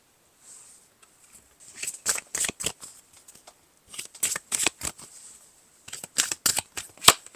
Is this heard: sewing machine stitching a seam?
no